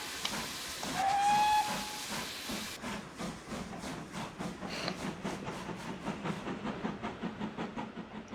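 A steam locomotive hauling a passenger train gives a long whistle, then chuffs in a steady quickening rhythm with hissing steam, moderately distant and fairly faint.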